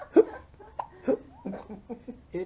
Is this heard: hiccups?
yes